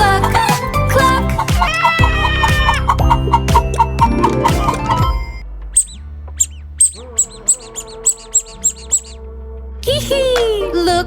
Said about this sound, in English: She lays an egg for me and you. Cluck, cluck, cluck.